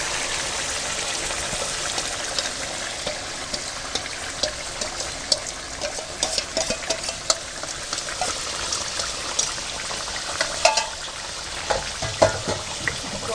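Chicken karahi sizzles and crackles loudly in a hot pan as spiced yogurt is mixed in, a dense continuous hiss with irregular spitting pops throughout.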